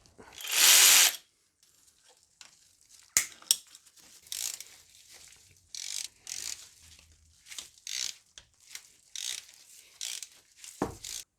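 A ratchet wrench removing E10 Torx bolts from the water pump bracket on a Mercedes S320 W220 engine, with a sharp burst of rapid clicking followed by short, irregular ratcheting spurts and metallic knocks, close up and without speech.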